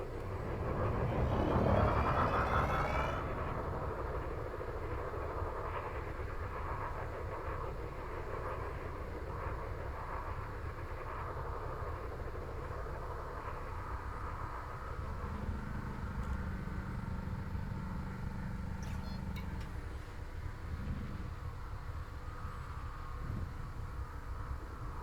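A spaceship engine in the Elite Dangerous video game swells into a broad whooshing roar as it accelerates, then settles into a steady hum with a brief low tone midway, faint overall and free of speech.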